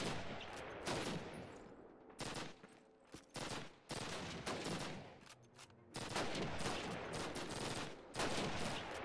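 Repeated automatic weapon fire from the Call of Duty video game comes in dense loud bursts separated by brief gaps, sustained across the whole stretch, with no voices over it.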